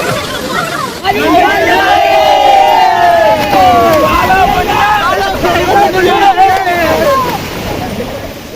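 A crowd of people bathing at a dam waterfall at Tharamangalam fills the air with loud, continuous babble, with many overlapping voices, shouts and excited calls over a steady rushing hiss of falling water.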